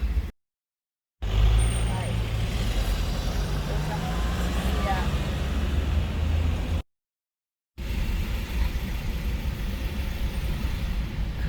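Heavy road traffic of trucks and cars near a ferry port in France hums and rumbles continuously at moderate distance, broken by two brief silent gaps, with a passing engine swelling early on.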